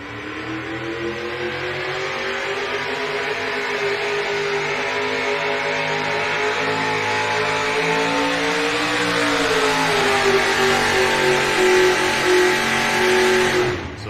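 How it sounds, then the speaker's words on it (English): A naturally aspirated 1965 Ford Pro Modified drag race car called the Intimidator roars loudly through its whole run. The engine note climbs and holds as it accelerates, dips briefly partway through, then rises again before cutting off at the end. "the 65 Ford he calls the Intimidator. Makes his run here."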